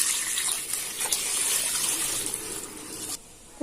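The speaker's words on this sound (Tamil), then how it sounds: "இப்போ தண்ணி ஊற்றிக்கலாம் தேவையான அளவு." Water pours steadily into a curry pan, a continuous close gushing splash with no talking, thinning out and stopping near the end.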